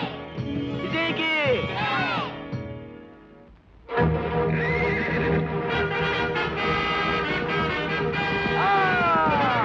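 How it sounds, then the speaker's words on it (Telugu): Horse whinnying loudly in a Telugu film scene, with long high neighs near the start and again later, over a dense bed of hoof clatter and music, with a brief hush midway before the commotion surges back. "ఇదెట్ట గుర్రం వెనక్కు పోతుందో."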